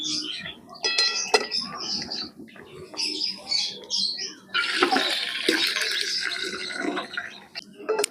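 Hot water is poured off boiled jackfruit and potatoes: a splashing, gushing pour in the middle of the clip, with birds chirping and kitchen clinks around it outdoors.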